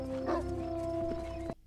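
Dogs barking in a scene from the 2000 war film The Patriot, a short run of yips and barks set against a sustained musical score, ending abruptly after about a second and a half.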